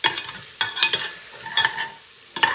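Tomato paste stirred into sizzling turkey chili with three beans, a few scraping stir strokes over a steady hiss of frying in the pot, close and fairly loud, no voices.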